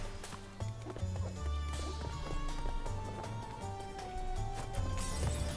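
Horse hooves gallop in rhythmic clip-clop beats through the game music in Crash Bandicoot N. Sane Trilogy, fairly faint and steady under the layered score.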